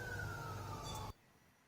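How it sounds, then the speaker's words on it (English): Emergency vehicle sirens wail steadily in the background, a continuous rising tone over low rumble, then cutting off abruptly. "Somebody's got some sirens in the background."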